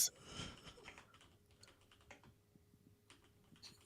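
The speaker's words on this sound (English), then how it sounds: "don't know if you're typing something." Quiet, close keyboard typing: irregular bursts of small clicking keystrokes, soft and sparse, with no voices.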